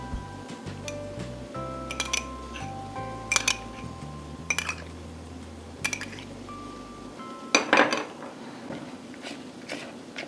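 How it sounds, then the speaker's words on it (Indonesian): A spatula stirring steamed date cake batter in a bowl gives a series of irregular light clinks and taps against the bowl's sides, with a few louder knocks; close and otherwise quiet. "Kita aduk kembali"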